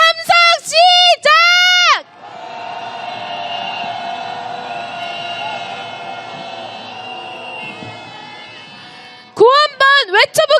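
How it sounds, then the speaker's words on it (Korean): A street crowd at a candlelight march rally in Korea raises a long, sustained roar of cheering that swells and holds for several seconds, set between bursts of a speaker's voice before and after. "응원의 함성 보내면서 지나가 보겠습니다."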